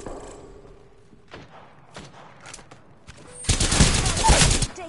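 Video game gunfire: scattered thuds and shots at first, then a loud burst of rapid automatic fire near the end.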